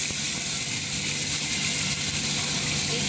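Water hitting beef stir-fried with onions in a hot pan gives a steady, loud sizzle and hiss that holds throughout, with no talking.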